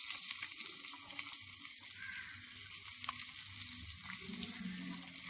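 Chopped onion drops into a hot pan of chili-powder-spiced oil for a Kerala mezhukkupuratti, giving a steady close sizzle and frying hiss with faint stirring clinks, no voices.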